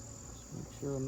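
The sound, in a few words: honeybees buzzing in mating nuc hive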